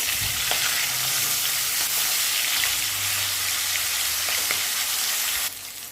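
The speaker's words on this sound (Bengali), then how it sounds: "ভালো করে ভাজা হয়ে গেছে, উল্টে দিচ্ছি।" Continuous loud sizzling and crackling of fish frying in hot oil, with occasional stirring scrapes as they are turned, steady throughout before dropping slightly at the end.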